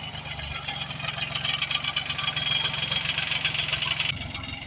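Tractor engine running steadily with a low, rapid knocking pulse during groundnut sowing in a farm field, continuous and fairly close for the whole stretch, with no talk.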